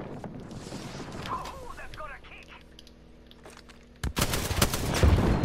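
Video game gunfire erupts after a quieter stretch, a loud rapid burst of shots that keeps going to the end.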